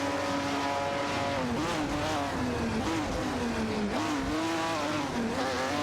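In a racing video game, a TVR Griffith 200 and a 1967 Plymouth GTX race with engines revving hard. Continuous loud engine tones rise and dip with each gear change, and the tyres squeal faintly.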